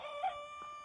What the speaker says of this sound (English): It's one of my chickens.